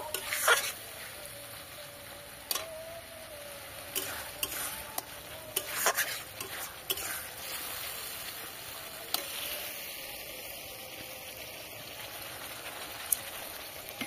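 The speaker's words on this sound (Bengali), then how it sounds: "এখন হলুদটা দিয়ে দিলাম। আর একটু কষিয়ে নেব।" Turmeric and spices sautéing in a pan, a soft sizzle broken by frequent sharp stirring scrapes and clinks against the pan, close but fairly quiet, no talking.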